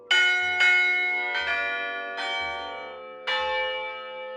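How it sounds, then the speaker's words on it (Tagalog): A set of tuned church bells in Iloilo or Capiz rings out a slow melody, five clear, ringing strikes of differing pitch spaced about a second apart, each leaving a long shimmering decay, with no talk. "Ang bells na ito, hindi katulad ng ordinaryong kampana na iisang tunog lang ang nagagawa dahil set o binubuo ito ng maraming kampana."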